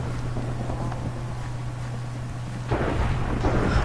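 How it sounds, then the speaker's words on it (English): Thunderstorm in the video game Tornado Survival: a low rumbling roll of thunder with steady storm noise, swelling louder near the end, with no talking. "Cause thunderstorm's right here."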